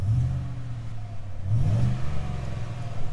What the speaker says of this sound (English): So it's actually got a little sound when you stand right here.